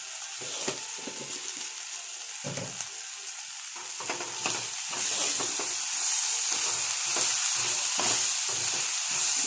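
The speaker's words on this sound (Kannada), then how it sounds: "ಎಲ್ಲ ಒಂದೊಂದನ್ನೇ ಆಗ್ತಾ ಫ್ರೈ ಮಾಡ್ತಾ ಇರಬೇಕು" Sprouted horse gram fries with turmeric powder, and the pan gives a continuous close sizzle that grows slightly louder partway through, with repeated stirring scrapes and clacks over it and no voices.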